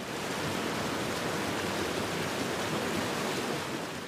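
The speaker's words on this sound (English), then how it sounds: "We can distinctly hear the crackling of ice, bubbling water and the flow of currents, the sound of melting glaciers." Meltwater from a glacier in Torres del Paine National Park, Chile, rushes in a steady, dense flow, with bubbling and faint crackling blended into a continuous broadband roar.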